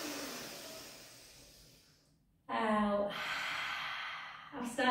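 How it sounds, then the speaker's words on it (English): Long, slow exhale that tapers off, then a short pause, then a loud, sustained breath drawn in through the nose that carries on to the end, heard close up during a Pilates session. "Big inhale through the nose."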